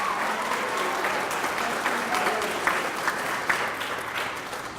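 An audience at an elementary school D.A.R.E. graduation ceremony applauds the police chief. Dense, sustained clapping from a crowd fills the whole stretch at a steady level.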